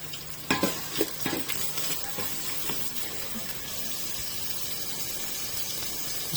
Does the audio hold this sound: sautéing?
yes